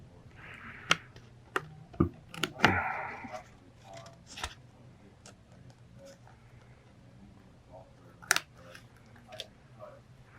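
Small scissors snip a decal free from a miniature decal sheet, giving a few sharp, close clicks spaced irregularly, with a quiet hiss between the cuts and no talking.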